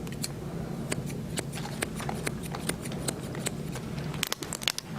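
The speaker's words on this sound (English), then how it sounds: "I'm going to take my shear and just go in and point cut that" Bonika hair shears point cut into squeezed-together fine hair, producing a rapid run of crisp, close snips that speed into a quick flurry at the end.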